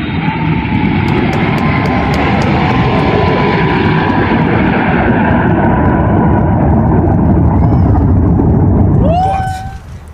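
Iron Maiden's Ed Force One airliner landing, a loud sustained jet roar with rumbling low end that holds steady and then fades, a faint rising whine near the end.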